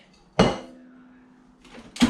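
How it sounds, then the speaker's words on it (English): A few ice cubes drop into a blender jar for a morning shake, two sharp hard clinks about a second and a half apart with a faint ringing between them, close and clear. "I'll add just a few cubes of ice cubes there."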